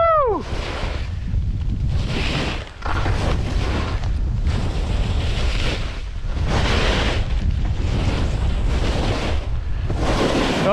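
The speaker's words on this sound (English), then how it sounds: "it's all wind blowing hard up here" Strong wind roars on a mountain above the Blackcomb Glacier, buffeting the microphone in loud, continuous gusts with brief dips.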